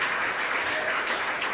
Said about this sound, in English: Applause for your presentation